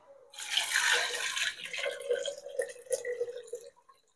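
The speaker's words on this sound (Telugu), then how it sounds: "so you can add the water in the cooker" Water poured into a pressure cooker for broken wheat bisi bele bath, a splashing gush that starts loud and settles into a thinner trickle with drips near the end.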